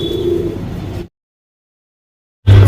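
A tournament racing pigeon offered for sale in Bangalore coos close by, one soft, low, throaty call lasting about a second before the sound cuts out. Another brief burst follows near the end.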